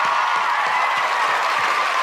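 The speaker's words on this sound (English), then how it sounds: "Let's make a round of applause, my boy here." A round of applause for a guest in a podcast studio: steady, dense clapping from a small group, continuous and fairly loud across the whole stretch, with no talk over it.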